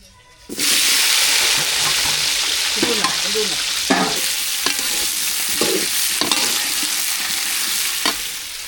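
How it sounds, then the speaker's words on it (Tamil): Brinjal being sautéed in oil for a thick relish, a loud continuous sizzle that begins abruptly, with irregular scraping stirs of a spatula through the pan, close and without speech. "கத்திரிக்காய் கொஞ்சம் கொஞ்சமாக வதக்கி எடுத்துக்கலாம் எண்ணெயிலேயே"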